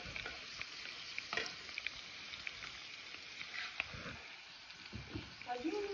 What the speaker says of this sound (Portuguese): Dona Elia fritando um quiabinho aqui pra nós.